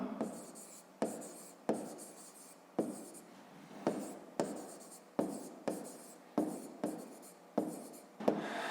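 Pen or pencil writing by hand on paper while working a grade-five math exercise, about a dozen short scratchy strokes in an irregular rhythm, close and quiet, with no talk.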